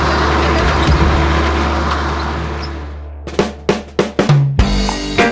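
A black John Deere potato harvester grinds through heavy soil at low speed, a loud, steady engine and machinery drone that cuts out, then gives way to a series of sharp clanking bursts.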